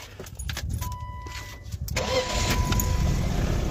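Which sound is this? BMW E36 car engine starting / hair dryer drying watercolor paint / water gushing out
BMW E36 car engine starting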